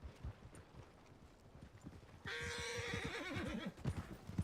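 A horse in Red Dead Redemption 2 lets out a loud, shrill, wavering whinny partway through, over steady clip-clop hoofbeats and light background noise.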